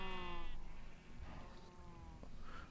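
Sheep bleat in a farming video game, a clear harmonic call at the start followed by fainter bleats, with no talking.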